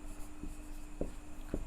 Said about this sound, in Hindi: हम यहाँ पे लिखते हैं